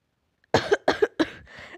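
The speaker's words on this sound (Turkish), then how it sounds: "Öksürmemek için zor duruyorum ama yetmiyor yani." Four coughs in a quick run from a sick young person, close and fairly loud, the last one weaker and trailing off, with no talking.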